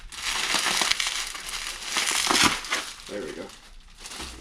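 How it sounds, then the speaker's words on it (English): Bubble wrap crinkles and crunches as it is pulled off the end of a Googan Squad Gold Series fishing rod, a loud, close, continuous rustle, with a brief spoken remark near the end. "let me grab this bubble wrap off the end here"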